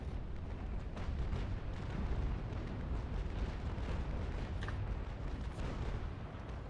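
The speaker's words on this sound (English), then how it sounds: "I'll have the honor to shoot double broadside" Ship cannons firing a broadside in the naval sailing game Naval Action, a dense rumbling roar of overlapping blasts that fills the whole stretch evenly without clear separate shots, no one speaking.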